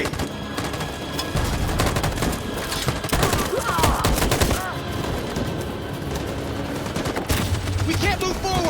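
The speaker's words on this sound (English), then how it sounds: "That machine gun is taking down everything that moves!" Dense, continuous machine gun fire in a battle in the video game Detroit: Become Human, loud and close, with rapid overlapping bursts and scattered shouting voices mixed in.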